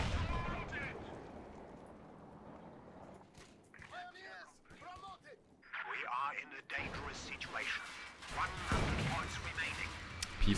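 Gunfire and explosive bursts from a Company of Heroes 2 match, including missed shots at a Stuart tank, sounding as scattered cracks and booms under continuous commentary.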